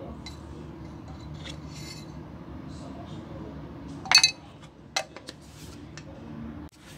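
Minced pork with pepper and cornstarch is stirred in a bowl, giving soft scraping and rubbing noises with a few sharp utensil clinks against the dish over a quiet background.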